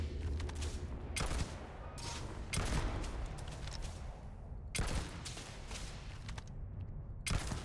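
Rapid gunfire bursts from the Starfield video game, with repeated sharp shots and short volleys at a steady level and no talking.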